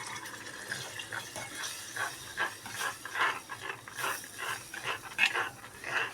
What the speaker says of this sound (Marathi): आता आपण इथे पाणी ॲड करणार आहोत